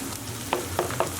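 Ground beef mince sizzles and fries steadily in a pan with onions, a soft continuous crackle broken by a few light stirring scrapes.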